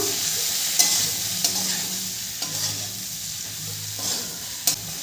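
Cumin and coriander powder stir in a frying pan for a vegetarian navratan korma, a soft scraping sizzle broken by several sharp spatula taps against the pan.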